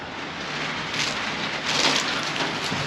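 Steady rain pattering on the roof of an enclosed trailer, a dense continuous hiss with no pauses, loud and close from inside.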